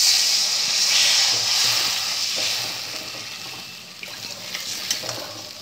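Water poured into a hot fried spice paste for a snakehead fish curry, a loud close hiss of steam and sizzle that slowly fades and settles into softer bubbling.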